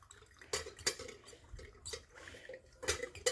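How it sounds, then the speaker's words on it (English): Small spoon stirring coffee grounds in a pour over brewer, quiet light clinks and scrapes against the vessel with faint wet swishing, close and intermittent. "Ooh, this is the perfect little spoon for this. So I'm just going to stir it around."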